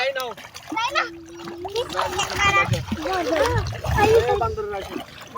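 Children play and splash in clear, shallow river water on a Jamuna sandbar, with bursts of splashing and sloshing mixed among their lively chatter and shouts throughout.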